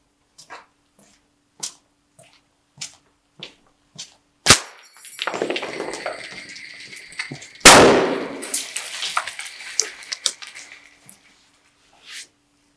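A tripwire grenade is set off: a series of sharp clicks and taps, then a loud close crack followed by a hissing, crackling burst and a second big bang, with scattered debris clatter trailing off.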